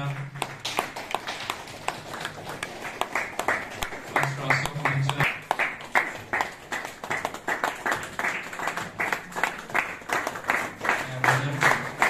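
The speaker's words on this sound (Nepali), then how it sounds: "ताली बजाउँदै गर्नुहोस्" An audience at a pastors' and leaders' retreat welcome in Shillong claps in a steady rhythmic beat, close and fairly loud, while a voice keeps talking over the clapping.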